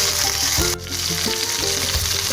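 Slit green and red chilies with curry leaves fry in hot oil for Andhra-style chicken 65, giving a loud, continuous sizzle and crackle close by, with a brief dip partway through.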